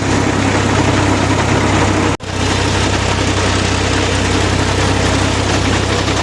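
A tractor engine drones loudly and steadily in a flooded, muddy paddy field during rice transplanting, with one brief dropout partway through and no talk.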